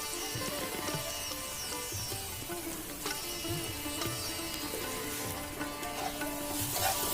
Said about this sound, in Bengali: নেড়ে চেড়ে ভাজা ভাজা করে নিচ্ছি পেঁয়াজটাকে